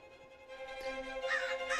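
Crows cawing in a snowy winter landscape, a few hoarse calls in quick succession, fairly faint and at some distance.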